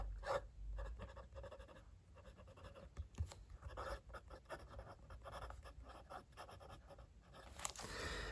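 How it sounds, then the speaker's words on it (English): A fountain pen with Diamine Oxford Blue ink writing on paper, close and faint: soft, irregular scratchy strokes in quick bursts over a low background hum. "this is Diamine Oxford Blue ink, and you can see, I'll just write that there."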